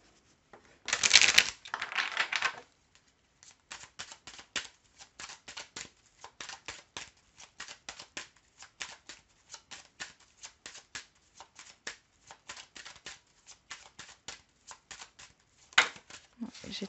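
Tarot cards shuffled by hand in a series of quick, crisp riffling bursts, starting with one loud flurry and then continuing as a steady stream of light, papery clicks at moderate distance.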